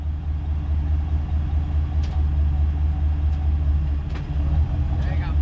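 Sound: snow plow truck engine idling

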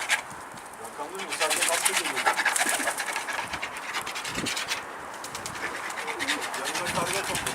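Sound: pigeons cooing

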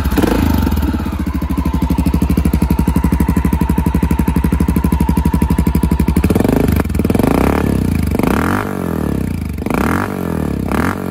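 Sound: Honda FMX 650 cafe racer motorcycle engine running

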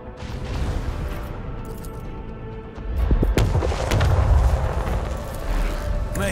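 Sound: void ship macro cannons firing in Warhammer 40,000 Rogue Trader video game

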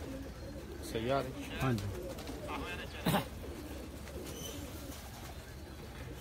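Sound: pigeons cooing

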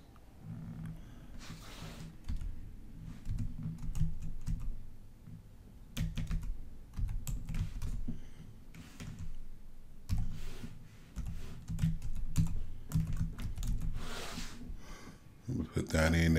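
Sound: typing an email address on a computer keyboard

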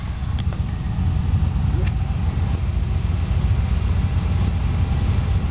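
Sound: car engine idling and changing tone

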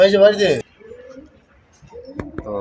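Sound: pigeons cooing

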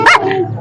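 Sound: dog barking

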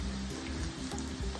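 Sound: garlic frying in a pan until light brown

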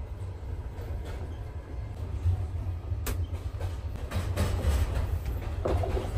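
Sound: passenger train compartment, Kaliningrad to Adler train

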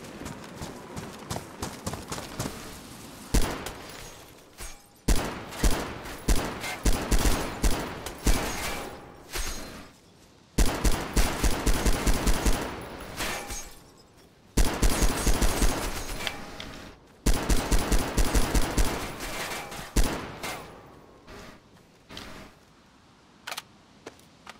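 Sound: gunfire in a video game

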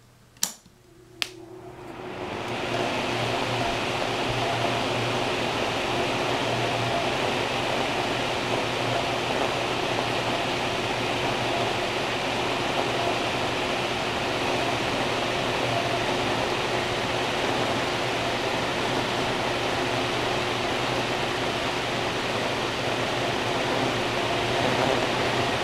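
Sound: five blade elevator cab fan running

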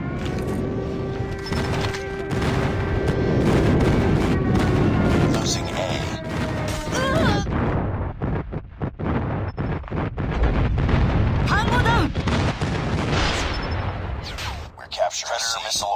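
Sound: airstrike explosions in Call of Duty Mobile, a video game

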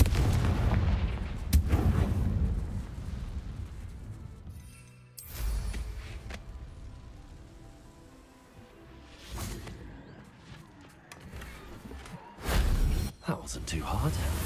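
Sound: Confringo fire spell explosions in video game Hogwarts Legacy

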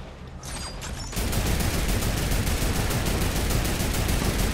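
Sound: gunfire in a video game

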